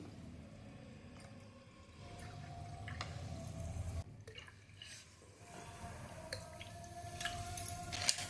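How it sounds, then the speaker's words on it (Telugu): Soda pours into a glass of nannari syrup drink with a steady fizzing hiss and soft liquid splashing, close up, with no voices. "సోడా పోస్తున్నానండి"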